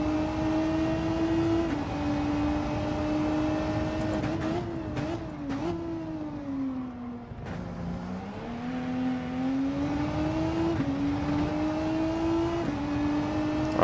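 Race car engine in the Gran Turismo 7 video game, a loud continuous drone that climbs through the gears with short dips at each shift, briefly dropping off around braking before revving up again.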